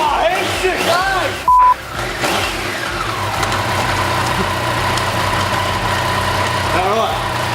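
A motorbike engine started up and left running in gear, with its rear chain turning during cleaning: a steady mid-pitched idle hum that rises briefly as it revs near the start, with a short beep, while people talk nearby.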